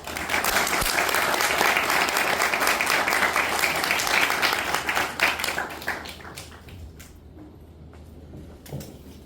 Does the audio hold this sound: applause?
yes